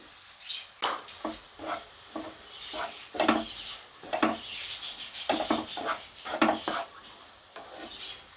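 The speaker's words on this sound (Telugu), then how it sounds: "మొత్తం ఒకసారి కలుపుకొని ఈ షుగర్లో ఈ తురుము బాగా ఉడికిపోవాలి" Grated pumpkin being stirred with sugar in a pan for a sweet, giving rhythmic scraping and rubbing strokes under a soft sizzle, close and moderately loud.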